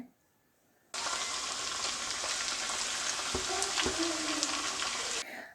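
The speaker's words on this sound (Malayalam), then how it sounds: "എന്നിട്ട് ഇതുപോലെ പക്കോട പോലെ ഓയിലിലേക്ക് ഇട്ട് കൊടുക്കുകയാണ്." Lumps of a vermicelli and egg pakoda-style snack dropped into hot oil, setting off a sudden loud, dense bubbling sizzle that holds steady for several seconds, close up, with a couple of faint knocks and no talking.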